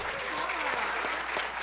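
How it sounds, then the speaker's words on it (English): Steady applause from the audience at a community city and county event, a brief burst of even clapping for an introduced speaker, no talking over it. "Oh, yes, give her a round of applause."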